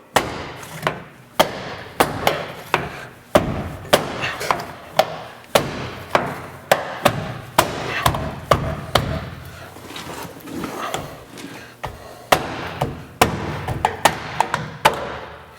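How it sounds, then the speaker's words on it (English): Rear fender flare being pried off a 2014 Ford F150 during a Bizon fender flare install, giving a long run of sharp plastic pops and thuds, close and loud, repeating at an irregular pace. "All right, so we'll just start popping this off, same way we did the front one."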